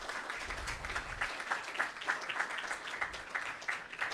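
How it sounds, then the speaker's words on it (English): Applause from the audience at a hackathon opening ceremony in Budapest, thanking challenge partners; quiet, distant clapping that sounds steady and slightly uneven, with no one talking over it. "so a huge applause to them because they provided really exciting challenges"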